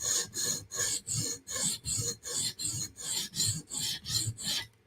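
A knife blade is sharpened on a TSProf Kadet guided sharpener, with about a dozen even, rhythmic rasping strokes of the stone along the steel, close and clear, with no talk.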